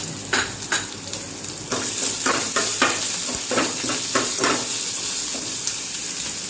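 Grated ginger and black peppercorns frying in hot oil in a pan for a curd rice tempering, a steady close sizzle with bursts of crackling and stirring scrapes throughout, no voices.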